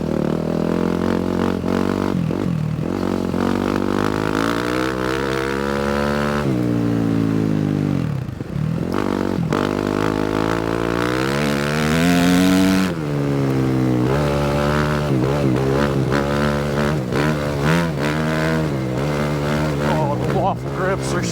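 A Gas Gas MC250F dirt bike rides on a rainy off-road trail, its engine loud and continuous, rising and falling in pitch with repeated revving and gear shifts.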